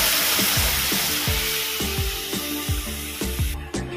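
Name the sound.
water poured into pan of crab malai curry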